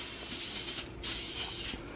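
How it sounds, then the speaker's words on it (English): A handheld spray bottle mists a bed sheet and pillows in two close, loud hissing bursts separated by a short pause. "I spray everything."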